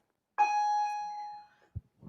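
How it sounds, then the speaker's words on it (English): A school bell sounds once, a bright electronic chime with a sharp onset that holds for about a second before cutting off, followed by a brief low thump in a quiet room. "we are live in a school with real bells"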